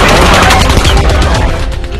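Heavy gunfire from attackers, about 200 rounds in all, comes as a dense, continuous rattle of shots packed closely together, loud and close throughout the short burst.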